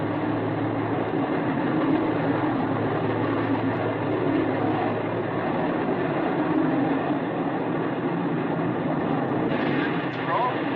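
A rocket engine roars at ignition as the throttle advances, a loud, dense, unbroken rumble holding steady for the whole stretch, with voices talking over it.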